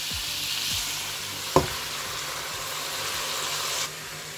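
Dried-out pork adobo fries in its own rendered fat in a pan, giving a continuous close sizzle broken by one sharp click midway, with no voices.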